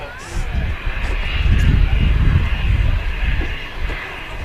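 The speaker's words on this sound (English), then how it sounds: "Absolute beast, that is the A380." An Emirates Airbus A380 at Manchester Airport produces a broad, low engine rumble that swells and holds, fairly loud and distant, with wind-like hiss and someone talking over it.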